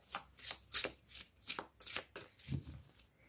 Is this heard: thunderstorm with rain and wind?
no